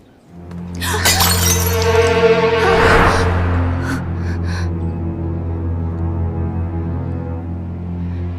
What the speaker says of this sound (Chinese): 这么好的爆花油就这么摔碎了，还真可惜。